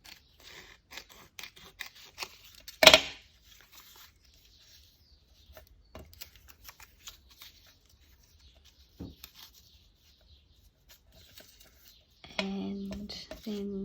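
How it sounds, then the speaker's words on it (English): Scissors cut embossed paper in sparse, quiet snips with one sharp, louder cut near the start; a short stretch of voice comes in at the end. "I'll try just cutting it with my scissors."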